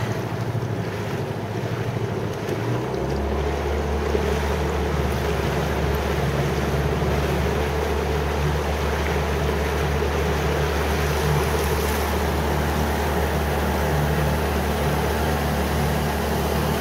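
A motorboat throttles up across the ocean at night near Torquay Harbor, its engine settling into a loud, steady low drone after a few seconds, under constant wind and rushing water.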